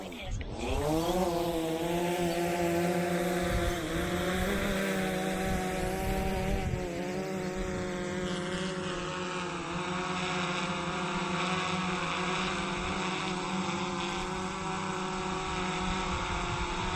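A DJI Phantom 3 Advanced quadcopter takes off and hovers in a headwind, its rotors a loud, steady, close whine whose pitch rises at lift-off and then settles, continuous throughout.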